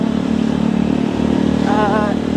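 A motorcycle labouring uphill on the hilly roads of Puerto Galera, Mindoro, its engine droning steadily and loudly with a brief rising whine near the end, while a person talks over it.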